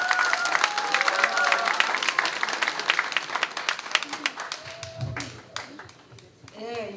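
Applause from a crowd at a joint campaign rally in Jeonju as the next candidate is introduced: dense, loud clapping that thins and fades toward the end, with voices and crowd noise mixed in.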